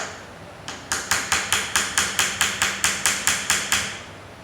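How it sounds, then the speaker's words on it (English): A wooden dowel is driven into a gear hole on a tapping block with a steady series of about fourteen sharp, evenly spaced hammer-like taps, close and crisp, with no voices. "get your piece of dowel, put it on the hole, and tap"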